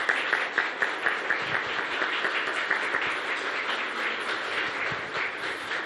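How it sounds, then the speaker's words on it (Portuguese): A crowd at a scientific presentation at Instituto Butantan claps steadily in dense, sustained applause that fills the room, even and continuous throughout. "E eu peço um aplauso para eles."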